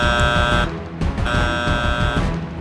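An alarm rings out in a Paw Patrol story, a loud, harsh buzzing tone sounded in two long blasts with a brief gap between, over a rumbling background.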